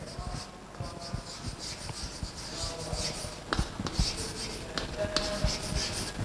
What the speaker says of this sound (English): So now we are drawing the budget line.